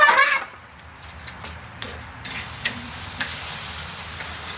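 Flank steak on a grill just after flipping: a low, steady sizzle with scattered ticks and taps, following a brief louder clatter at the start.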